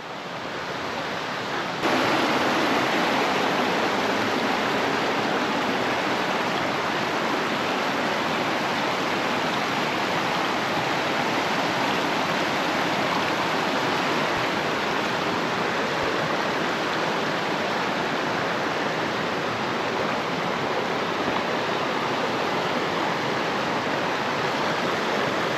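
Steady, dense rushing of a flowing river beside a lakeside campsite at Laguna Negra, a constant broadband wash that starts abruptly and holds at an even level throughout.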